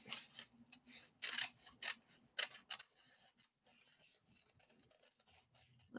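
Scissors snip through paper in quick, crisp cuts that come in clusters during the first half, then give way to faint rustling and handling noise as the paper is turned.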